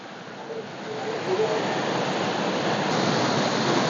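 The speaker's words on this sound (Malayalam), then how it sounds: "ഇതാണ് ആ വെള്ളച്ചാട്ടം കണ്ടത് ആദ്യത്തെ വെള്ളച്ചാട്ടമാണ് നല്ല അതിമനോഹരമായിരിക്കുന്ന വെള്ളച്ചാട്ടം" Mankayam waterfall in a forest after rain, pouring over rocks as a loud, steady broadband rush that thickens slightly after the first second and continues without pause.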